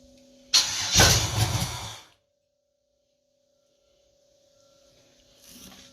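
A turbocharged LQ4 engine in a Cutlass cranks on its first start and catches briefly with a loud burst, then dies to near silence under a faint steady hum.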